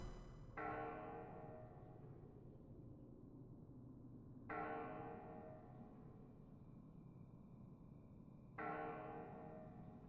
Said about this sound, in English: it's 12 in the afternoon, you can hear the bell there